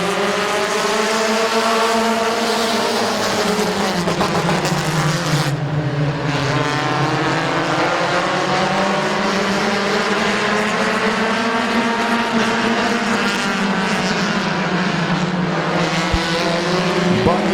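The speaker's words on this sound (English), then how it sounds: "Getting ready to come back to green, Bucky and Peebles. Green flag is in the air" Race cars roaring at Midvale Speedway as the green flag restarts the field, a loud continuous engine drone with rising and falling pitch as the pack accelerates past, no talk audible over it.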